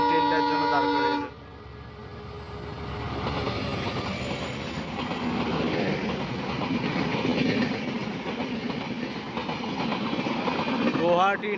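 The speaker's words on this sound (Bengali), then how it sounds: "এটা নাহারলাগুন থেকে এখন আসলো, আর এটা একটা এক্সপ্রেস সিরিজের ট্রেন" An express train from Naharlagun pulls into a station in Upper Assam, a steady loud rumble and clatter of wagons rolling close by after a brief horn at the start, with faint talk beneath the din.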